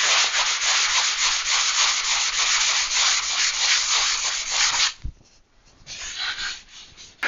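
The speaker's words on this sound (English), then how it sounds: "Now we do a little light sanding to take off the high spots" Steady abrasive rubbing of light sanding over a patched wall, continuous strokes up close for about five seconds, then a brief pause and a quieter resumption.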